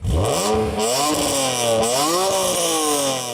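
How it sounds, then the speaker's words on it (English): A BMW E46 M3 engine revving hard, its harsh metallic howl rising and falling through several sharp throttle blips, close and loud. "that old E46 M3 harsh metallic sound when you're stepping on it"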